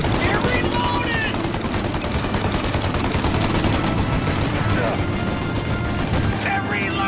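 Sustained shootout in the crime game Mafia: Definitive Edition, with rapid overlapping gunshots and machine-gun bursts crackling steadily throughout, close and loud, while voices shout now and then over the fire.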